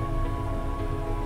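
Steady rain falls at Malampuzha while people stand on a rope bridge, giving a continuous, dense hiss of drops with a low, even hum underneath and no clear pauses.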